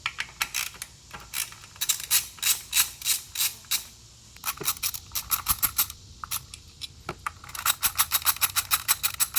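Socket ratchet with a 10mm socket loosening the coil pack bolts on a car engine, giving close, quick runs of sharp clicks separated by short pauses, with no talking.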